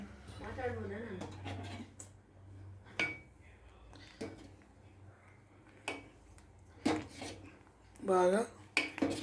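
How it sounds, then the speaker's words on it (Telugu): Rice flour soup stirred in a pot, a utensil scraping and knocking against the metal in irregular bursts while someone talks over it. "బాగా కలిపేస్తున్నాం."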